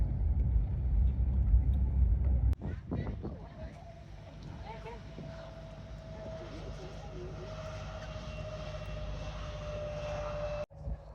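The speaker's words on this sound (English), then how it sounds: "Doing a little plane spotting at the airport, and we've found the perfect perch." Airplane engine roar at an airport, heard from a nearby plane-spotting perch as a steady, loud drone with a low rumble that holds throughout, with a brief break early and another near the end, and voices faintly in the background.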